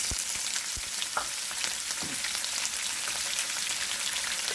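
Peeled shrimp frying in warm oil in a pan, a steady close crackling sizzle with scattered pops that holds without a break and with no voices.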